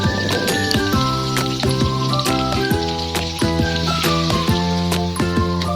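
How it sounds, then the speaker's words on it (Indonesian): Chilies frying in hot oil for dendeng balado, a dense continuous sizzle and spattering crackle, close and steady, with tonal background music and no talking. "Nah, yang terakhir kita akan goreng cabenya."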